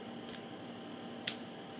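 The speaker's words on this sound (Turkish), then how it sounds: "Bu yüzden ben makasla açacağım." Scissors cutting open a package, two quick crisp snips about a second apart over a low steady room hum.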